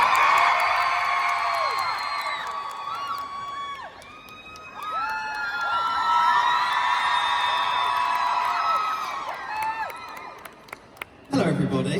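A big live audience at Musical Con, ExCel London, cheers and whoops loudly for about ten seconds, a sustained roar of many voices. It dips around four seconds, swells again, and fades near the end as a few isolated shouts stand out.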